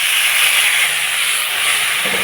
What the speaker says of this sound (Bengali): পেঁয়াজ রসুনটা একটু ভাজা ভাজা হয়ে যাচ্ছে, ওর মধ্যে এইভাবে দেওয়াটা কোচানো টমেটো আর কোচানো লঙ্কা দিয়ে দেবো।